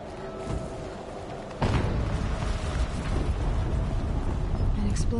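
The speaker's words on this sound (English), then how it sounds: "An explosion." An explosion in Horizon Zero Dawn on PS4 Pro: a sudden loud boom breaks in after a quieter stretch, followed by sustained rumbling debris and crackle.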